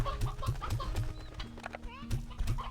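Stony hens from the video game Slime Rancher 2 cluck in short, evenly spaced bursts about twice a second, mixed with other game effects and a faint background tone.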